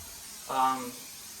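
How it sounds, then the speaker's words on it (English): Cooking spray is sprayed onto cookie sheets in a single short hissing burst of about half a second, close and moderately loud against a quiet room. "take some sort of cooking spray and just lather up your cookie sheets"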